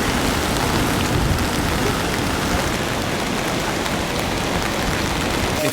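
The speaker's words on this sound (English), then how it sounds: "It's raining hard." Heavy rain pours steadily on a crowded walkway near the bridge and bamboo forest at Arashiyama, Kyoto, where many people hold umbrellas; the loud dense hiss continues without a break and no one speaks.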